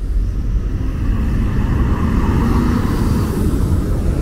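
Another Viação Cometa coach arrives at the Tietê bus terminal at night, a continuous broad engine roar and rolling road noise filling the space, loud and near with no talk.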